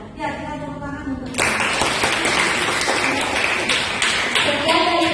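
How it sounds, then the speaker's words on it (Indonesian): After a voice speaks briefly, a classroom group at a senior high school bursts into loud, sustained clapping that continues to the end, with a voice returning near the close. "Ya kita tepuk tangan untuk"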